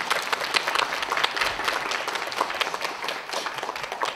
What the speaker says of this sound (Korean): 우리 교수님들께 여러분들 뜨거운 박수 한 번만 부탁드리겠습니다